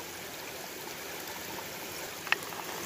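A creek runs steadily in the background, a soft, even trickle and flow of water with one brief sharp tick partway through; no one speaks.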